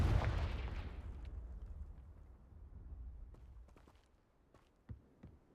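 Confringo fire spell cast in Hogwarts Legacy, a heavy booming explosion that rumbles and fades over several seconds, followed by scattered faint game clicks and soft impacts.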